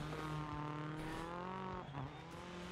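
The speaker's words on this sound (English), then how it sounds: "the wonderful sonorous sounds of the anti-lagging Escort, sorry, Focus, Ford Focus 2007 WRC car" Anti-lag Ford Focus 2007 WRC rally car in a racing video game, its engine droning steadily with harmonic tones throughout, a brief pop or crackle near the middle, loud and continuous with no talking.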